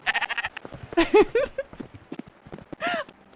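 Sheep bleat in a video game, a few short wavering cries near and clear among light footsteps and clip-clop sounds.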